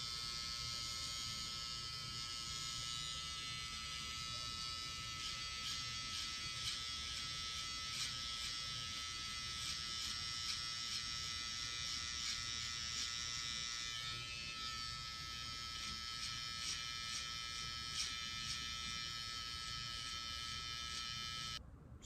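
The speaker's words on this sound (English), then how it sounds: "I'm gonna grab my trimmers." Electric hair trimmers run in a steady, close, continuous buzz while cutting a high taper during a self-haircut, the motor tone shifting slightly partway through as the blades move against the hair.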